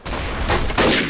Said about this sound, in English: Nice headshot.